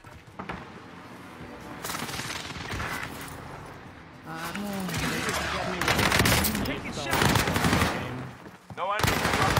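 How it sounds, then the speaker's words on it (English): Bursts of rapid automatic gunfire and booming airstrike blasts in a military shooter game, loud dense volleys coming in waves, with players talking over the combat. "Fire the airstrike here."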